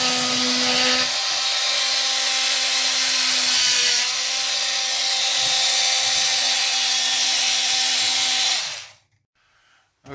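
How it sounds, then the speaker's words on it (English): A power drill with an extra-long flexible bit whines steadily for several seconds at close range, grinding up through a wooden floor, then stops abruptly, leaving near silence. "We had to drill up through the floor with an extra long flexible bit"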